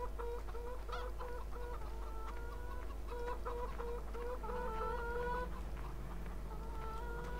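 Chickens cluck repeatedly on a farmyard in the Farming Simulator 2013 video game, steady rhythmic clucking over a constant low hum with no talk.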